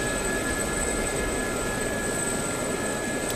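An Sa-342 Gazelle helicopter in the DCS flight simulator drones with a steady, even engine and rotor roar, a constant thick wash with a thin high whine running through it and no voices.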